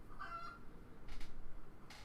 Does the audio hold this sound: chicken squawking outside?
yes